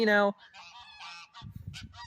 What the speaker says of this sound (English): geese got to make more noise than me, apparently